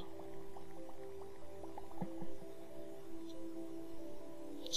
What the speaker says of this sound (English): Okay, so apparently I let the water out.